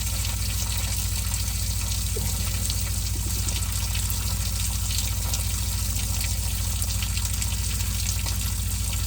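Water drains steadily out of the engine of a 1974 Pontiac Ventura that was filled with water, a continuous close splashing trickle under a constant low hum, with no talking.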